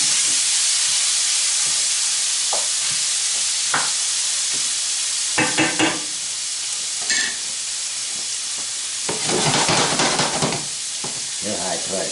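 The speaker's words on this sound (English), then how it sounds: "So I got my onions and peppers starting to cook." Onions and peppers sizzling in a pan for a Mexican-style dinner, a steady close hiss with occasional spoon scrapes and brief clatters over about twelve seconds, no talking.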